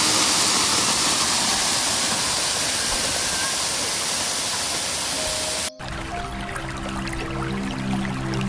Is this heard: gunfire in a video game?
no